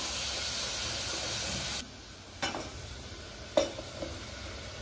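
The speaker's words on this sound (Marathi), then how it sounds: "तो थोडा कांदा परतल्यानंतर आपण आलं लसूण पेस्ट टाकायची। कांदा व्यवस्थित शिजवून घ्यायचा।" Onion frying in a pan with ginger garlic paste for veg pulao, giving a steady close sizzle that cuts off abruptly, followed by a few sharp stirring clinks against quieter background hiss.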